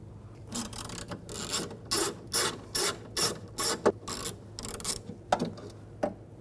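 A ratchet with a 10mm socket removing a bolt from the door of a 2006-2010 BMW 550i during a front window regulator replacement, giving a series of rapid clicking bursts repeated about a dozen times, close and fairly quiet.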